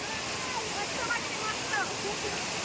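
Steady broadband rush of water falling over Akkadevi Dam at Chirner, Uran, heard up close, with faint voices in the background.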